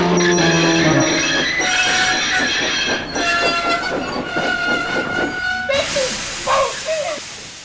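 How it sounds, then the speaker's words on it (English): James, a steam engine, brakes to a stop with a long grinding squeal and clanking wheels that slow and fade, tonal whistling screeches running throughout. "James's driver shut off steam, carefully put on the brakes, and skillfully stopped the train"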